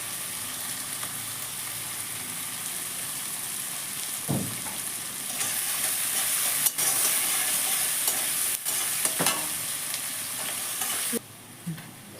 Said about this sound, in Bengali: আমার পেঁয়াজ রসুন কাঁচা লঙ্কা খুব সুন্দরভাবে ভাজা হয়ে গেছে